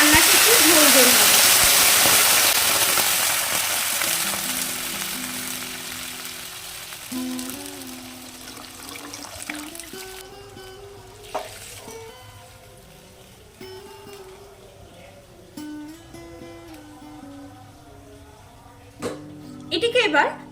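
Water hits drumstick stalks frying in hot oil, setting off a loud rushing sizzle that slowly dies down to a soft simmer, while someone talks through it.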